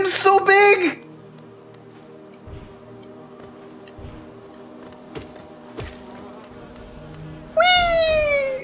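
Giant bee enemy in the Hollow Knight video game gives a low, steady droning buzz. Sharp, sweeping game cries sound at the start and the end.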